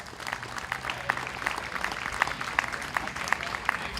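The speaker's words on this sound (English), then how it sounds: "So give her a big round of applause." A county fair pageant audience claps for a young contestant, a modest scattering of hand claps at middle distance that holds steady over a murmuring crowd.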